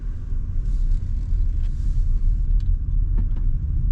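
A GWM Haval H6 HEV hybrid creeps slowly forward, giving a steady low rumble and road hum with a few faint clicks and whirs, continuous and close throughout.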